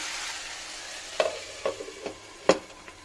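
Capsicum gravy stirred in a pan, with a handful of separate scraping strokes of the spoon over a soft, steady background sizzle, close and fairly quiet.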